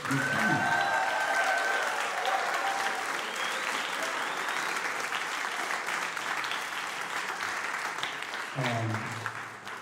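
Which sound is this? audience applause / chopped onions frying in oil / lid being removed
audience applause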